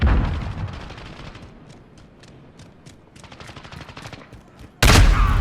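Gunfire in the Modern Warfare video game: a fast, steady train of close automatic shots crackling through the clip, then a sudden loud burst at the end, with no talk.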